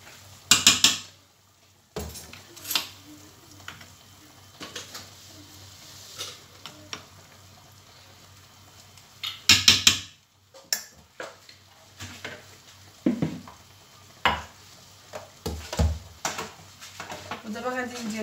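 A little onion stirred in a pan: scraping, clattering stirs and a soft sizzle come in bursts, with quiet gaps between them and at the close.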